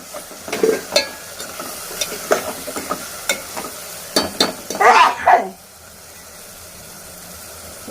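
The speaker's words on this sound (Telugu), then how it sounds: "ఇప్పుడు ఇవన్నీ మంచిగా కలుపుకోవాలి" Spices including turmeric and coriander powder are stirred into a raw tamarind fish curry, making a series of scraping, clinking stirs against the pot, then the sound stops and goes quiet.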